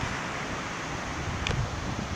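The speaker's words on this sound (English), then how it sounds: "That's the wind blowing right now" Wind roars steadily through a severe storm in Florida, a continuous broadband rush with slight gusty swells, loud and close to the microphone, with no talking.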